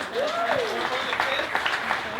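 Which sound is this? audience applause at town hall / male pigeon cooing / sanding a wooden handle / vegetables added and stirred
audience applause at town hall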